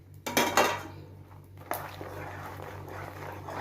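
Fried makhana balls drop into caramelised sugar syrup in a pan, with a couple of loud metallic clatters of utensils against the pan, then a softer sizzling bubble.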